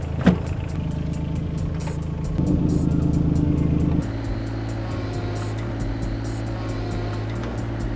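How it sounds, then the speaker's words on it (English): A digger's diesel engine runs at a building site during a block and beam floor installation. It drones steadily and close, rises in pitch as the machine works and moves, then settles, with faint rhythmic clanking over it. "I can drive that digger."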